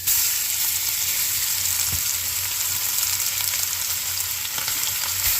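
Chunks of meat brown in a hot cast iron pan for quesabirria, giving a loud, dense, unbroken sizzle up close, with one or two faint knocks underneath.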